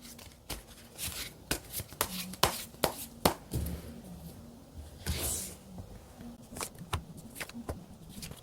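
Tarot cards are shuffled and drawn by hand: close, crisp bursts of riffling and slapping cards in an irregular rhythm, with short pauses between flurries and no talking.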